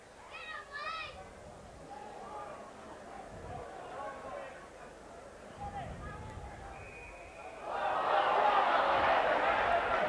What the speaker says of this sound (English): Well, the local crowd not really liking that.